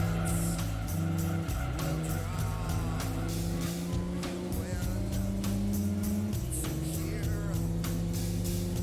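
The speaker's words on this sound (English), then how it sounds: "Gonna jam the brakes pretty hard here." Race car in Gran Turismo 2 braking hard into the final corner, tires squealing and skidding over a steady engine drone, loud and close throughout, with a few faint bursts of crowd or track noise.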